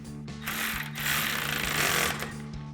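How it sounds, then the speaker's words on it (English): A 13mm socket wrench tightens the bolt holding a running-board step to its support bracket on a 2009-2018 RAM 1500, a close, rapid ratcheting burr in two bursts over a low steady hum. "we'll also use our 13mm to tighten down the bolt that holds the step to the support bracket"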